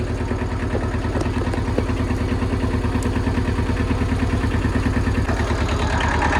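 A Kubota L175 tractor engine cruising steadily in first gear low, a loud continuous low chugging rumble with rapid even firing pulses and faint clatter, close by throughout with no talk.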